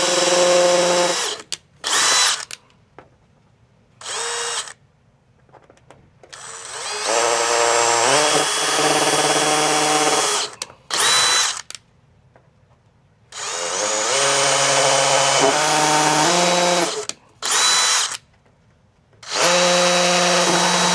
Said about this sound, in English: I just have to drill 4 holes